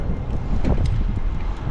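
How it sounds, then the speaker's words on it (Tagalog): Strong wind buffets the microphone during an outdoor bike ride on the road in Ilocos Norte. The low roar is loud and gusty and runs without a break. "Lakas ang hangin."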